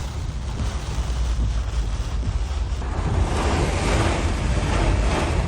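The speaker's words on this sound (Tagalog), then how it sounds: "Halos zero visibility sa lakas ng buhos ng ulan" Loud, roaring wind and heavy rain from Hurricane Milton in Florida, a constant rushing storm noise that builds slightly toward the end.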